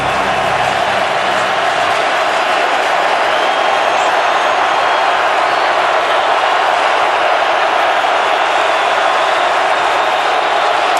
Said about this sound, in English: Let's hear this crowd get loud.